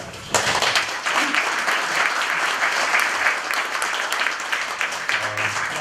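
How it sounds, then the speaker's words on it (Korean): An audience applauds at a lecture event after a performance on metal instruments, a dense, steady wave of clapping that rises abruptly and holds strongly throughout. "한 번만 더 박수."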